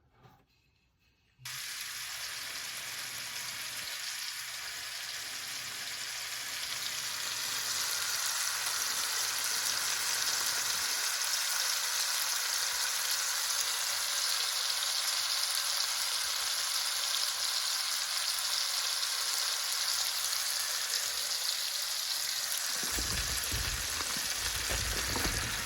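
Food frying in a pan, a loud continuous sizzle that starts abruptly after a short quiet moment and holds steady for the rest of the clip, with no talking.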